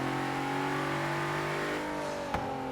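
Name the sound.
Infiniti Q50 Eau Rouge with GT-R engine revving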